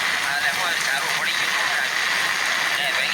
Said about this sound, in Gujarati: વરસાદ ફૂલ છે એવું છે,